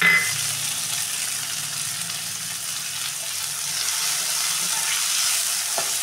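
Chopped tomato with a pinch of salt sautés in a pan for a fish-head moong dal, giving a steady, close, even sizzle with faint stirring scrapes and no voices.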